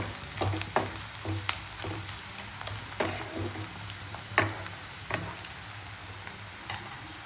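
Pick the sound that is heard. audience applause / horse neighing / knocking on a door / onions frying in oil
onions frying in oil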